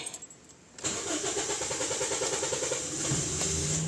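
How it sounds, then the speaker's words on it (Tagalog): A car engine cranks after its throttle body has been cleaned: a short quiet pause, then the engine catches and settles into a loud, rough idle with a rhythmic pulsing running to the end. "Oy, ang tagal. Bago mi-start."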